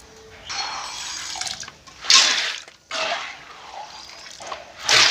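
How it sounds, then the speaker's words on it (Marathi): Hot water poured from boiled black peppercorns through a kitchen sieve, heard as bursts of splashing, draining liquid with pauses between pours. "आता या चाळणीत हे काढणार सर्व काळी मिरी गाळून"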